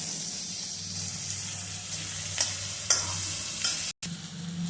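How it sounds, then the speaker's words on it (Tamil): Ingredients sautéing in a hot pan until golden brown, a constant sizzle and hiss with a few scraping stirs, one brief dropout and a low steady hum beneath. "நல்லா வதக்கலாம். வதக்கு சூப்பராக வதக்கிறோம். நல்லா கோல்டன் கலர்ல வரணும்."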